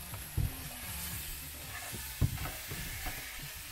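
Chopped vegetables, spring onions and sweet snack peppers fry quietly in a pan for an omelette, a low sizzle with a couple of sharp knocks and scrapes from stirring.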